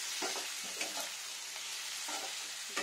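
Pointed gourd and potato being sautéed in a pan: a steady loud hiss of frying with repeated scraping stirs of a spatula, close up and without voices.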